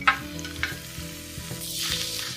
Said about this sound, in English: Now, saute the meitake mushrooms together.